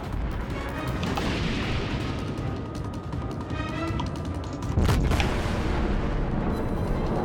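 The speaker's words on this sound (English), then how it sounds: "Well, one of my torpedoes hit." A torpedo strikes a ship in World of Warships: steady rumbling naval combat noise, then a heavy booming explosion hits about two-thirds of the way through and rolls on loudly.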